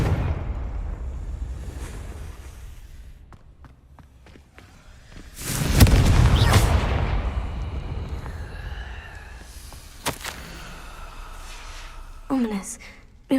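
A Confringo fire spell from a video game detonates in a loud, broad explosive burst with a whooshing roar that fades over a couple of seconds, followed by scattered softer impacts and game effects.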